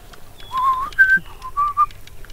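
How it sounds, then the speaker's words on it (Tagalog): A bird whistles clearly and close by near a hanging bridge in Maragondon, Cavite, giving several short, clear whistled notes in quick succession with no talk over them. "Nasipol ng ibon."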